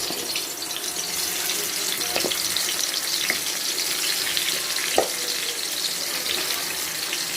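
Fish rubbed with turmeric, chili and mixed spices frying in hot oil: a loud, steady sizzle with scattered crackles and pops, close and continuous, with no talking.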